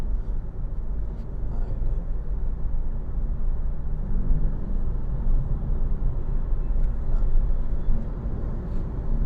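From inside a 2015 Mitsubishi Outlander Sport PX during a kick-down, a loud, steady low engine and road drone fills the cabin with faint higher rattles and no talking.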